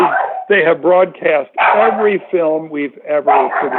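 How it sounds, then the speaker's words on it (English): A dog barks at someone passing by, a few sharp yips heard distantly under a man's steady close speech that dominates throughout. "Excuse my dog who's barking at someone passing by."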